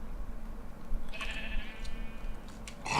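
A Minecraft sheep lets out a wavering bleat in the middle, followed by a few shorter sounds near the end over a low background hum.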